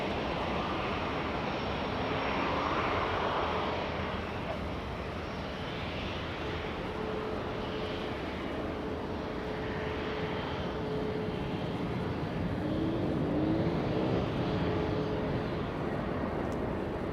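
Finnair airliner passing over Los Angeles International Airport, a steady broadband jet roar with a faint whining tone, sustained throughout at moderate distance with no talk.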